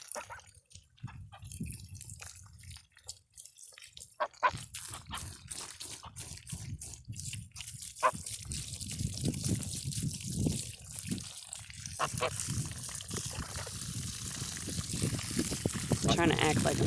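Water runs from a garden hose outdoors in uneven splashing and trickling bursts, building toward a steadier rush, with someone talking intermittently over it.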